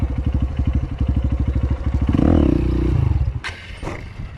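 Motorcycle engine heard up close: a rapid, pulsing idle thump that swells into a louder rev, drops back, then ends with a couple of sharp mechanical clicks.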